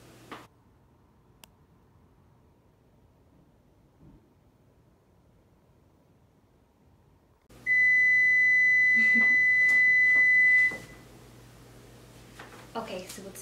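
A kitchen timer goes off while a Greek vasilopita New Year's cake bakes, giving a loud, steady electronic beep that holds for about three seconds in a quiet room before cutting off, followed by faint rustling.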